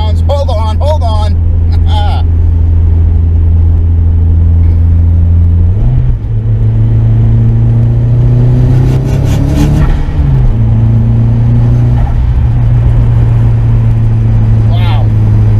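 An SR20DET-swapped Nissan 240SX turbocharged engine idles with a deep rumble, then revs and surges with rising pitch as it comes on 10 psi of boost, loud and close, while a voice talks over it.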